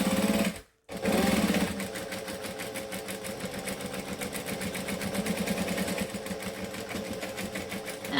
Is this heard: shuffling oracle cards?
no